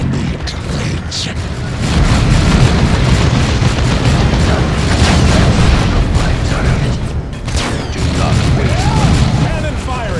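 Heavy cannon fire in the video game Warhammer 40K Dawn of War 2, a loud, dense booming barrage that rumbles continuously for about ten seconds amid chaotic battle noise.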